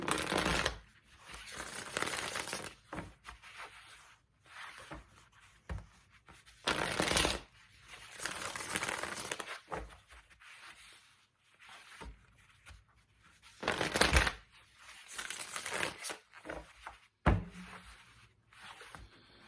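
Tarot cards are shuffled in repeated bursts of riffling and sliding, close and crisp, with short quiet pauses between shuffles.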